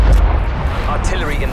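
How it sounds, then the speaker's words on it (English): Artillery explosions from the Call of Duty: Black Ops Cold War video game, a loud low rumbling boom at the start fading into a brief roar with a voice speaking over it. "Hostile artillery active."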